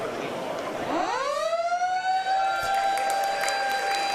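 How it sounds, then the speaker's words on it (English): Stadium siren at Pentanet Stadium ending a WAFL match between West Perth and Perth, a long rising wail that settles into a steady, loud sustained tone over crowd noise and a commentator's voice. "As the siren sounds at Pentanet Stadium"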